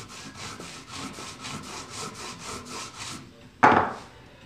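A blade bevel is drawn repeatedly along a leather strop in a woodworking shop, giving a steady series of about a dozen rhythmic rubbing strokes, followed by a single sharp knock.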